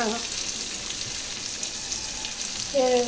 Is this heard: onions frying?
yes